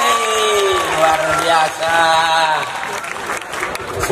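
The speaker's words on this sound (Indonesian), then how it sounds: "Tepuk tangan dulu dong" An audience at an Islamic religious gathering claps and cheers while someone talks loudly over the crowd, with the applause continuing steadily beneath his voice.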